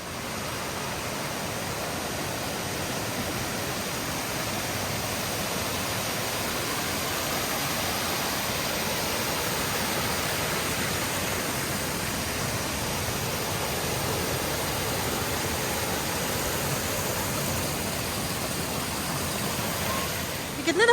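Loud rushing water at Narah in Kaghan, Pakistan, a steady broadband roar filling the whole stretch without a break, with no talking over it.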